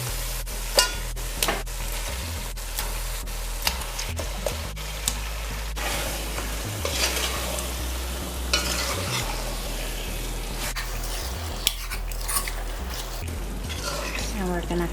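Chicken sizzles steadily as it fries in masala in a hot pan while being stirred, with repeated scraping and clunks of a utensil against the cookware.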